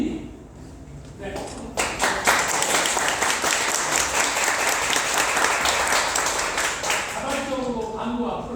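An audience claps warmly after a piano ensemble performance in an art hall, the dense, steady applause swelling quickly and holding for several seconds, with a host's voice heard before and near the end.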